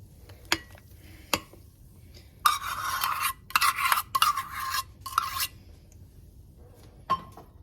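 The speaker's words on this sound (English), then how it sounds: "Make it be better with a whisk. Just whisk that right in there." A whisk beats a mixture in a bowl for healthy frozen treats, with a few quick clinks followed by several seconds of close, rhythmic scraping and swishing in short bursts.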